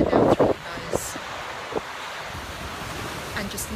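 Ocean waves wash onto the beach at Nai Yang, Phuket, in a steady, broad hiss of surf, louder at the start with a few brief voice-like sounds before settling into an even, moderately loud wash.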